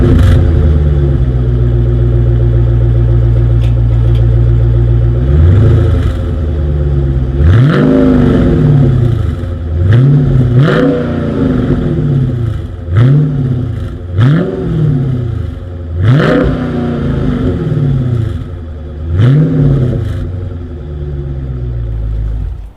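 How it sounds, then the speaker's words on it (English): A 2020 Dodge Challenger R/T Scat Pack idles with a deep, loud exhaust burble, then fires off a series of about seven sharp throttle blips, each rising and falling, close and alone with no talk. "As always, here is that exhaust clip."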